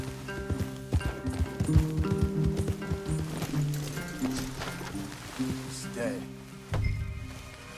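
Horse hooves in Red Dead Redemption 2 clip-clop steadily on the ground, close and prominent, with a brief whinny-like sound near the end and voices talking over them.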